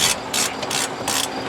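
Ratchet with a low-profile socket turning a bolt on a 2003 Chevy Suburban front hub, a close, crisp burst of rapid clicks repeated in about five quick strokes.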